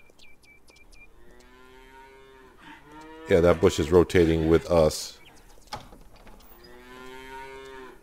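Brown-and-white cattle in the farming video game Farmer's Dynasty give a burst of loud, close, overlapping moos in the middle, framed by someone talking casually before and after.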